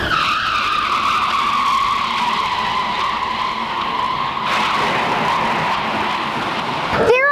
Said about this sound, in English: these tires are moving the opposite direction and they squeak across the track to leave some rubber on the track